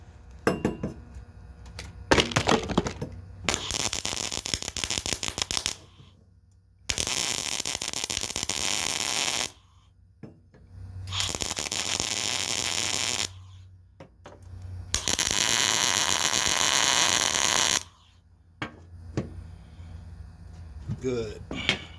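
Welding on a steel lawnmower deck, with several long steady crackling, buzzing arc runs of a few seconds each, separated by quiet pauses and brief clanks.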